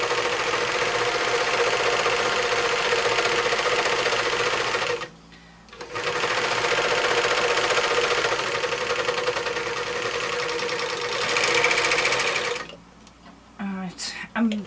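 A serger overlocker sewing machine stitches fabric in fast, steady mechanical bursts, close and fairly loud, pausing briefly once and stopping near the end as a voice speaks.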